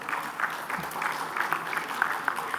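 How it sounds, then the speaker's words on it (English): Audience applause at a capital markets conference, Stocktech Gujarat in Ahmedabad, following an award announcement: steady, fairly dense clapping from a mid-sized crowd with scattered sharper claps, moderately loud and without talk. "Can we have a round of applause?"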